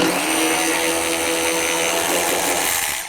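A DeWalt Xtreme 12V cordless 3/8-inch sealed-head ratchet removes rusted carriage bolts holding rubber in place: a steady, loud motor whir that runs unbroken for about three seconds and then cuts off.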